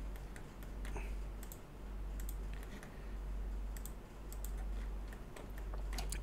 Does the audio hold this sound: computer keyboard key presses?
yes